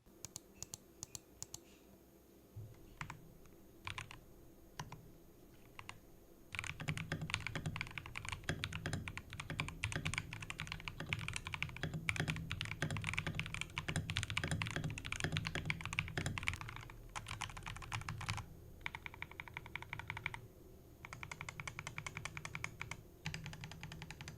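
Typing on a modded Garuda Gear GG68B 65% mechanical keyboard, a dense run of close clacky keystrokes with a few short pauses, growing louder and busier in the middle; no talking.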